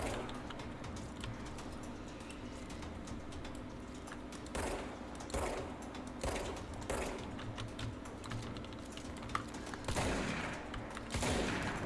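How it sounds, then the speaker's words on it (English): A shotgun fires in the video game Control, a series of sharp blasts spread across the span amid chaotic game noise, fairly faint overall with several distinct punchy reports. "How do you like shotgun, asshole?"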